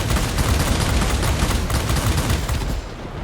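Aircraft cannons firing continuously in World of Warplanes, a dense, loud, rapid rattle of gunfire that runs unbroken for several seconds before easing slightly at the end, with engine roar beneath and no talking.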